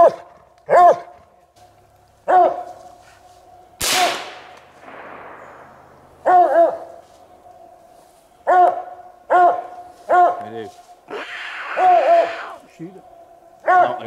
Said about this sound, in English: Buster's treed two boars, May's treed a boar.